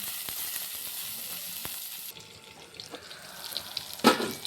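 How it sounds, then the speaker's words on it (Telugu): Eggplant pieces frying in oil for vankaya karam give a steady, close hissing sizzle that softens midway, ending with a sharp clink of a utensil. "వీటిని కూడా ఒక 5 minutes ఫ్రై అవ్వనిద్దాం"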